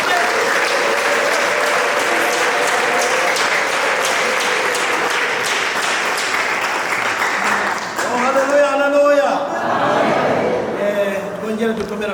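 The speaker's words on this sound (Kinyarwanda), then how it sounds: "Tugukomeye amashyi." A church congregation at a choir worship service claps loudly and continuously, with voices calling out over it; the applause gives way to a speaking voice toward the end.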